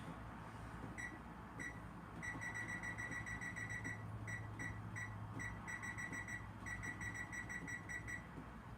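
A kitchen timer set while baking English muffin bread gives a series of short, repeated electronic beeps in uneven bursts, faint and alone over a low background hum.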